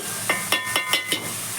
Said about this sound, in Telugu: మనం ఉల్లిపాయ పచ్చిమిర్చి చేసాం కదా దాన్ని కలుపుకోవాలి బ్రౌనిష్ కలర్లోకి రావాలి